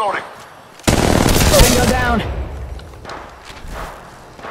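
Close, loud rapid automatic gunfire in the video game Apex Legends. A sustained burst is followed by a lighter trailing fire and thuds, with game voice callouts in the mix.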